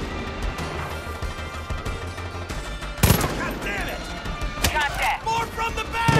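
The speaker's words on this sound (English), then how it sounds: "this gun with a scope is actually quite nice." A scoped rifle fires during a Far Cry 5 firefight, loud sharp cracks standing out over a dense rattle of other gunfire and crashes, with voices talking throughout.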